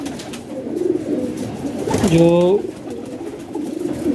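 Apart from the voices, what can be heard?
champion pigeon Badshah cooing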